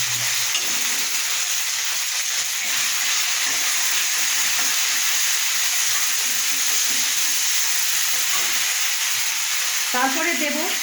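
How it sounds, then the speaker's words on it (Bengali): Onions fry in a pan with ginger-cumin paste, giving a steady, close sizzle and hiss that runs throughout, with a brief stirring scrape near the end. "পেঁয়াজটা লাল লাল হয়ে ভাজা হয়ে গেছে। এরপর আমি দিয়ে দেব আদা জিরে বাটা,"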